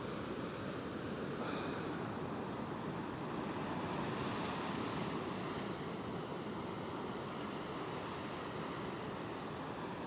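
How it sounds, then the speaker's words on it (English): Ocean breakers rolling onto a beach, a steady broadband roar of surf with wind buffeting the microphone, continuous and fairly distant. "The breakers seem to be busting a long way out"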